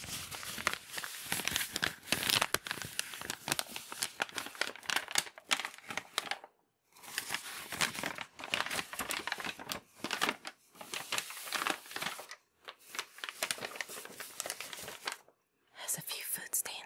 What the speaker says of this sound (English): This is a very old piece of paper.